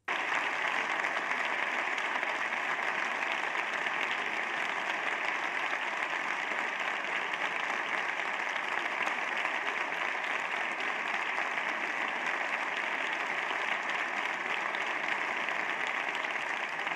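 Steady, even applause fills a parliament chamber for about seventeen seconds as a politician claps for his allies, a dense uniform clatter without pauses or voices.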